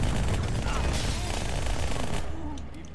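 Rapid automatic gunfire in the video game Halo 2 Anniversary, dense bursts of shots filling the first two seconds before tapering into quieter scattered fire.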